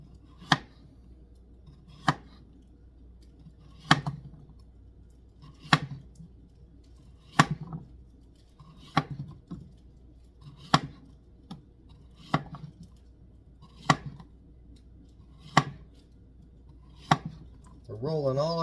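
A knife chops zucchini into thick quarter-inch slices on a cutting board. About a dozen crisp, close knocks fall at a slow, steady pace, and a voice starts speaking right at the end.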